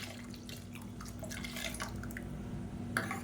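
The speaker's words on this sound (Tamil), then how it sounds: "இப்போ மிக்ஸி அலசிட்டு இந்த தண்ணியை சேர்த்துக்கலாம்." Water from rinsing a mixer jar is poured into a pan of simmering curry: a faint splashing pour with soft drips and a low steady hum, no voices.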